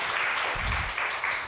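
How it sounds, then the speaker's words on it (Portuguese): A church congregation claps together in a steady, dense patter that keeps going for the full moment, with no voices over it. "Uma salva de palmas para o Senhor"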